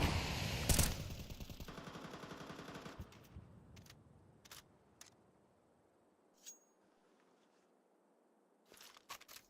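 A Galil rifle spray bursts in rapid automatic fire in a Counter-Strike match, loud for a few seconds and then trailing into sparse, fainter single shots and clicks.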